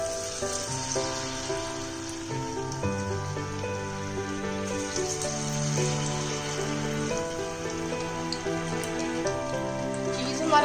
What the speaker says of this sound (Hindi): अब हम चीज को कढ़ाई में डाल देंगे 1-1 पीस करके और इसको अच्छे से